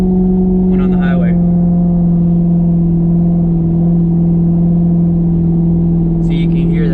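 A 2004 Mustang GT V8 with a stall converter drones steadily in gear on a highway, a constant low engine hum that is loud and close from inside the car.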